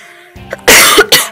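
A person coughs hard at close range, two loud rough bursts in quick succession after a brief throat sound.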